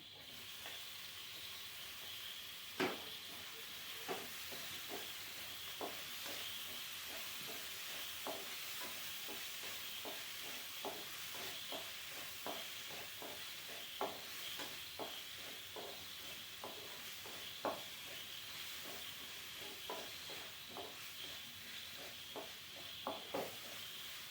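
Onion and tomato sizzle softly in a pan under a steady frying hiss, with irregular light scrapes and taps of a spoon stirring throughout.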